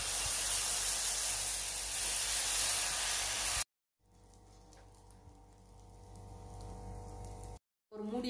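Pearl millet dosa batter hissing loudly as it hits a hot griddle, a strong steady sizzle that cuts out abruptly, then a softer sizzle with faint clatter.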